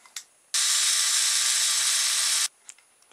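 A power drill bores a hole for barbecue skewers while building a fan-driven toy car, a loud, high, steady whine lasting about two seconds, framed by a few small clicks and handling knocks.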